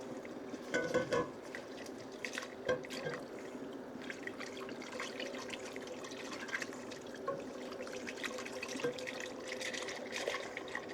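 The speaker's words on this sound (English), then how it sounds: "we're gonna slowly mix in 4 cups of milk" Milk poured slowly into a pan on the stove, a steady liquid trickle with faint drips and light clinks of cookware, continuous and close, without talk.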